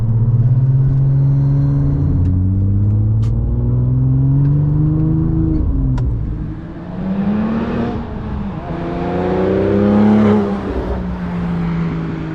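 Porsche 911 Turbo with an old exhaust drones steadily at highway cruising speed, a loud, continuous low rumble with engine pitch swelling and dipping slightly as speed shifts, alone with no talking.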